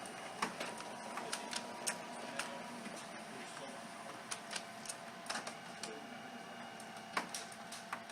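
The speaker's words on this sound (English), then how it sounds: "I hear my printer going off now." An older network-capable printer working quietly: a soft mechanical whir broken by irregular ticks and clicks as the page feeds through.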